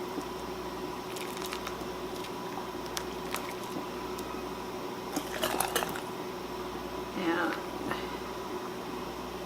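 Broth for a butternut squash and white bean soup with rosemary and tomatoes being poured into canning jars: two brief liquid pours and splashes rise over a steady low kitchen hum.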